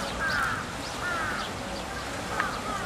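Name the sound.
crows cawing while bathing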